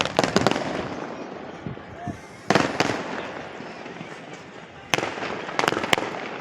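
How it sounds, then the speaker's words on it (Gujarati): Wedding firecrackers burst in quick clustered volleys of sharp cracks, with several rapid bangs at the start and more at intervals, loud and nearby, while voices talk faintly underneath. "સામે આપણે ધોમ ધોકારે ફટાકિયા ફૂટે જ મિત્રો."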